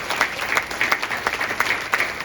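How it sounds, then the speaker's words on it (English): Modest applause from a small audience at a Friends Homes town hall, a light patter of individual claps at an uneven rhythm, fairly close and without talk. "Let's give her a round of applause."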